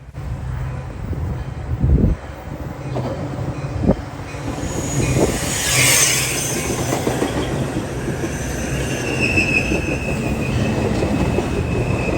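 A Metra commuter train led by an F40PH-2 locomotive passes close by at Downers Grove, with rhythmic clickety-clack of wheels over rail joints, heavy thumps and a squealing wheel tone rising over steady rolling rumble.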